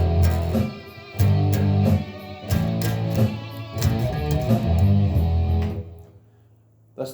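An electric guitar plays a legato riff over a backing track, phrases of connected notes with short breaks between them, loud and close, fading out near the end.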